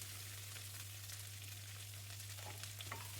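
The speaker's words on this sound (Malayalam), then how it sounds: "പിന്നെ അതിലേക്ക് വേപ്പില, സവാള, പച്ചമുളക് എല്ലാം ഇട്ട് കൊടുക്കാം." Curry leaves, sliced onion and green chillies frying in coconut oil with mustard seeds, a soft steady sizzle under a constant low hum, with a few light scraping stir sounds near the end.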